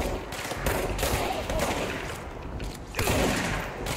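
Rapid gunfire from the shooter video game Control, with dense overlapping shots and bursts that run almost without a break and swell again near the end, loud and close.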